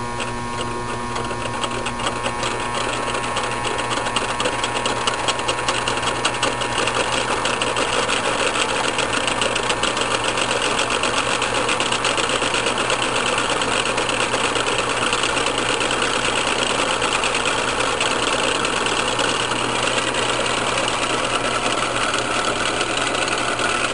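A three-phase AC induction motor with a spiral-patterned rotor is powered up and runs with a steady mechanical hum and whine, loud and continuous throughout, with no talking.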